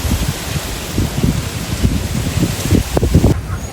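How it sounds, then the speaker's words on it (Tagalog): Steady rain and gusting wind outdoors on a blustery wet day, a continuous broadband hiss with low rumbling buffets of wind hitting the microphone, fairly loud and with no talking. "maulan na."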